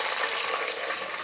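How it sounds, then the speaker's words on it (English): Okra frying in a pan, a dense, steady hiss of sizzling oil heard up close and fairly loud for the whole moment, with no voices. "First, you have to fry the okra."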